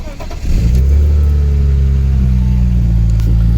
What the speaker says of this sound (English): Let's see a cold start.